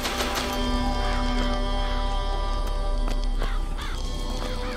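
Crows caw repeatedly over a steady low hum in BioShock Infinite, the harsh calls coming in quick clusters, fairly close and loud, with no speech.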